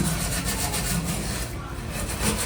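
Steady scrubbing and rubbing on a gas stove, working off stuck grime with a brisk back-and-forth motion, close up and fairly loud throughout with no voices.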